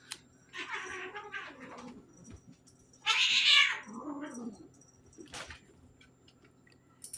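Cats play and chase each other indoors, letting out a few short meows and one louder drawn-out yowl in the middle, with soft scuffles and thumps between calls; no one speaks.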